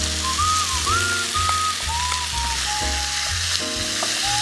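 Squid hisses and sizzles loudly as it is stir-fried with vegetables and seasoning, a steady close frying crackle with a few thin whistling tones drifting above it throughout.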